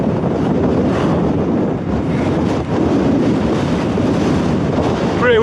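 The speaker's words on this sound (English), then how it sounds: "Pretty windy up here." Steady wind in the Scottish Highlands buffets the microphone throughout, a loud continuous roar with gusty fluctuations and no clear voices.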